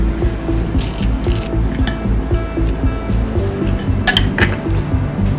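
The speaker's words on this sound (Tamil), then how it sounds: "நல்லா மிக்ஸ் பண்ணிக்கோங்க." An orange salad with onion, pomegranate, almonds, walnuts and fenugreek leaves is tossed in a bowl, making a continuous wet, rustling churn with a few sharp clinks, near and fairly loud.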